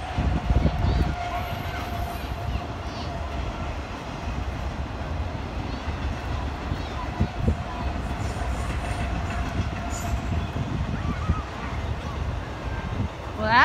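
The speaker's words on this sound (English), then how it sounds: "Well, that's a short train." A short train rolls past on the rails, with a steady low rumble and rattling wheel clatter at moderate distance that fades off toward the end.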